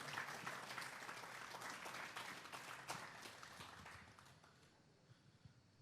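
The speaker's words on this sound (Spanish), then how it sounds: "Vamos a darle un fuerte aplauso al Espíritu Santo esta mañana." A church congregation applauds during a Sunday morning service, a dense, fairly quiet wash of clapping that holds steady for several seconds and then thins toward the end.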